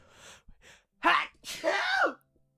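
A single sharp sneeze bursts out loudly after a few soft breaths, followed by a brief exhale.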